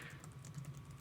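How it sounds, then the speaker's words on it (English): Rapid, furious typing on a computer keyboard, a quick stream of light clicky keystrokes, fairly faint and brief, heard alone. "furious typing"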